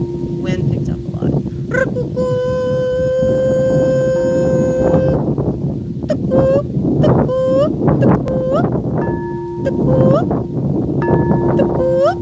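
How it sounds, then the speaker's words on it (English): Strong wind buffets the microphone in a constant low roar, while a long sustained horn-like tone and repeated rising tonal chirps sound over it. "Wind picked up a lot."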